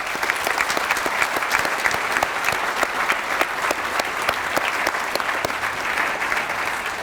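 Steady applause from a high school graduation audience fills the space, dense even clapping sustained from start to finish.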